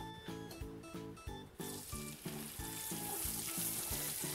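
Semolina roasts in a pan for halwa, a steady close frying hiss that swells and thickens toward the end, with a rhythmic tonal beeping pulsing throughout underneath, no voices.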